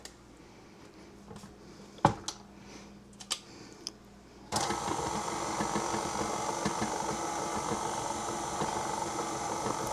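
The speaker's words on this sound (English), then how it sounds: "I always just mix it with the mixer." A steady electric mixer whirring on slow through peanut butter pie filling, a continuous near buzz that starts abruptly after a few scattered kitchen clicks and knocks.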